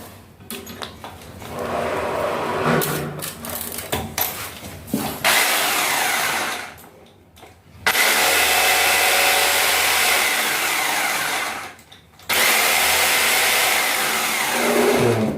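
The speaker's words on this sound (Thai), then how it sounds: "เราเจาะเพื่อจะยึดน็อตเนาะง่ายๆครับไม่ยุ่งยากเนาะ" Electric drill boring holes for the bolts of a replacement toilet, a loud steady whine in long bursts with short pauses between them, close to the microphone.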